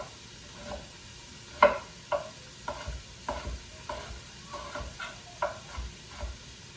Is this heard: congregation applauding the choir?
no